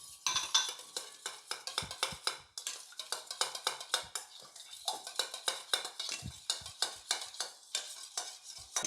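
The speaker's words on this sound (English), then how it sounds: "Put all the yogurt inside the lemon juice. And mix it up gentle." Yogurt is stirred gently into lemon juice in a bowl, with repeated wet scraping and clinking strokes in a steady rhythm, close up, and no voices.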